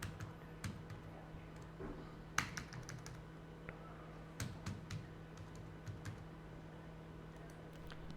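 Computer keyboard typing as a login ID is entered, scattered crisp key clicks in uneven bursts with one louder tap, over a steady low electrical hum and no voices.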